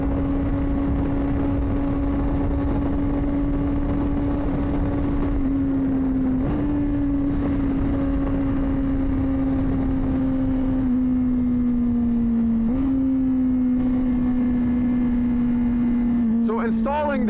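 A 2024 Honda CBR600RR motorcycle engine with a loud aftermarket exhaust idles steadily with a strong humming drone, dipping slightly in pitch a few times before a brief higher rev near the end.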